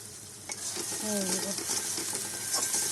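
Mashed pointed gourd with salt and turmeric is stirred in a hot pan for a Bengali potol bhorta, giving a steady close sizzle with scraping spoon strokes throughout.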